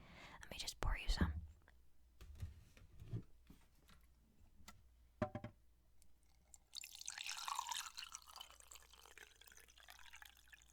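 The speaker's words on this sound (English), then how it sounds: "for now we're gonna do tea. Let me just pour you some." Tea pours into a mug in a quiet ASMR roleplay, a soft trickling splash that swells near the end, after hushed whispering and a few small drips and taps.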